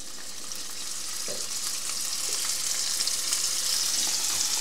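Roe deer fillet frying in a little oil in a pan, a steady soft sizzle holding evenly throughout with a few faint clicks, no voices.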